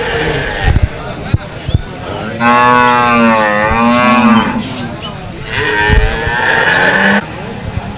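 Cattle at a village cattle market in Bangladesh low repeatedly, with two long harmonic moos standing out near the recording, and brief crowd noise and handling sounds between them.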